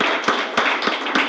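Applause for the mayor at a board of education meeting, a dense steady patter of many hands with four brief louder bursts spaced evenly across the short stretch, no voices over it.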